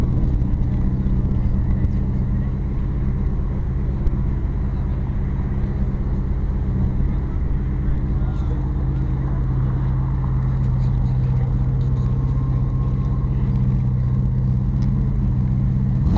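A black 1935 Rolls-Royce 20/25 Hooper Sports Limousine, right-hand drive, idles steadily, its engine a smooth, low, even rumble held close and unchanging from start to finish.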